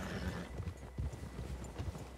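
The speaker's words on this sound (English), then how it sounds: "It's not many games you can ride a horse in first person like this." Horse hooves in Red Dead Redemption 2 give a steady run of muffled clip-clop beats, close and moderately loud over low game ambience, with no talk during the short stretch.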